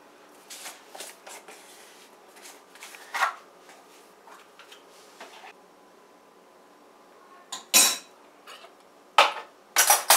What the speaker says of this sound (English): Molly is going to help out here with kneading the dough for our Doodhpitty